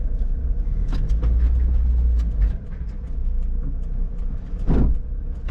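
Lotus sports car on an early morning club run, a steady engine rumble and road roar from inside the car, loud and continuous with a brief dip midway and a short surge near the end.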